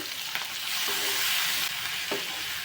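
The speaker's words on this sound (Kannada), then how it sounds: "ಅದನ್ನು ಚೆನ್ನಾಗಿ ಲೈಕ್ ಅದು ಸಾಫ್ಟ್ ಆಗೋ ತನಕ ಫ್ರೈ ಮಾಡ್ಕೊಳ್ಳೋಣ" Onion and tomato fry in a pan for a festive Ugadi lunch, giving a steady, close sizzle with a few faint stirring clinks. No one speaks.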